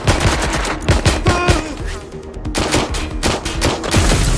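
Gunfire from the video game Watch Dogs Legion comes as loud, close bursts of rapid shots with short breaks between volleys.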